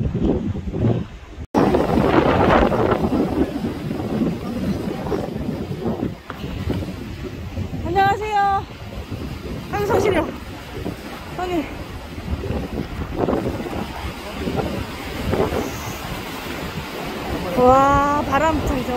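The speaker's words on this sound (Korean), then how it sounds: "와, 바람 좀 엄청 차다." Strong, cold wind gusts over the sea during a fishing trip for halfbeak from a boat, roaring steadily through the clip with water sounds, while people talk intermittently.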